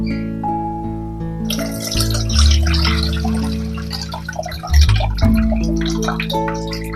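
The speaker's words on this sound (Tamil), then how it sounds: "ஒரு லெமன் சைஸ் புளிய 1 கப் தண்ணியில கரைச்சி வச்சிருக்கேன். அதை ஒரு பாத்திரத்துல சேர்த்துக்கலாம்." Tamarind water, a lemon-sized ball of tamarind soaked in a cup of water, is poured into a cooking vessel for kuzhambu, a close, continuous splashing pour with gurgles as the liquid lands, over a faint steady hum.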